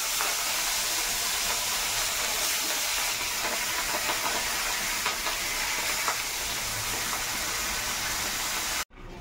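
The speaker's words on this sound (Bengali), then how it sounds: "মাছ ভাজা হয়ে গেছে" Fish frying in hot oil in a home kitchen pan gives a loud, steady, dense sizzling hiss that runs unbroken throughout and cuts off abruptly at the end.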